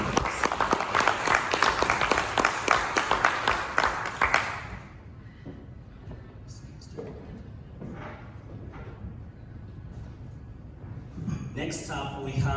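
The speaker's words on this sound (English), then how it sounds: "Let's give him a round of applause." Audience applause at an education event, dense clapping for about four seconds that then drops away to a quiet room with scattered small noises and a brief swell near the end.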